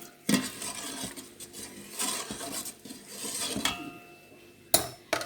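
Rice-washing water being stirred in a container, with soft swishing and scattered clinks and taps of a utensil against the vessel, close and fairly quiet, a couple of sharper knocks near the end.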